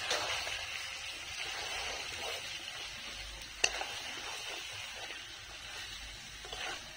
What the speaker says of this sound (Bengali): চাল দিয়ে এবার একটু নাড়াচাড়া করতে হবে